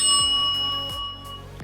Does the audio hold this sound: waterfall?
no